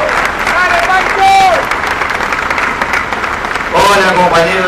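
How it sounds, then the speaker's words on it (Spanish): A crowd of workers claps and cheers at an ATE national strike rally, the applause loud and steady, with voices calling out and shouting through it. "le damos un aplauso grande y un abrazo también"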